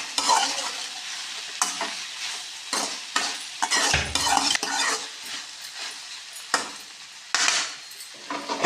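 Sliced okra frying in a pan with salt and turmeric as it is mixed, giving a close, continuous sizzle broken by bursts of utensil scraping against the pan.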